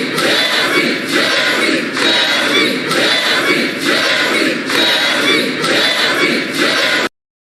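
Crowd cheering and whooping from a played-back recording, a continuous loud roar with pulsing swells roughly every second, cutting off abruptly.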